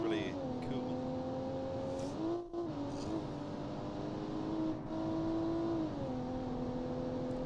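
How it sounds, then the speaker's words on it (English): Simulated taxi car engine in the BeamNG driving game revving steadily with a smooth, BMW-like tone, pitch rising and dipping as it accelerates and shifts through city driving, loud and continuous with a brief dip midway. "Oh, I like that BMW-like sound."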